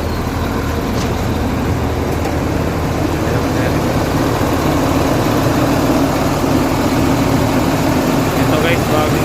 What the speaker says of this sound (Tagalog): Tingnan natin yung makina ni Asia Star.